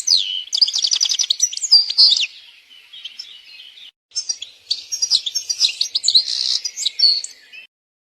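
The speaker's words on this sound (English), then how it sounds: "This is the Song of the Golden Finch" A golden finch sings loud, close and alone: two long bursts of rapid twittering and trilled chirps separated by a brief softer pause.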